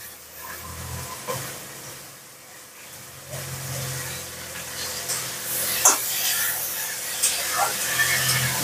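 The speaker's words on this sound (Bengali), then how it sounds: "এবার এই সজনের ফুলগুলো দিয়ে দিচ্ছি।" Drumstick flowers tipped into a hot pan with salt and slit green chillies set off a soft, steady hiss and sizzle that swells toward the end, with a few light clinks of stirring.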